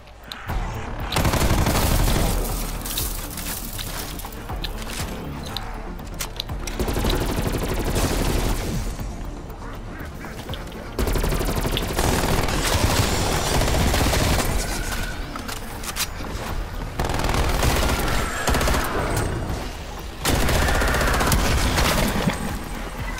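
Sentry turret gunfire in Call of Duty Black Ops Cold War zombies mode, dense sustained automatic bursts that run in loud stretches with brief lulls, close and heavy over continuous combat noise.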